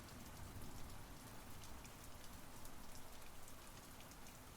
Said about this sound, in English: The rain will only get worse, judging by how thick the clouds are.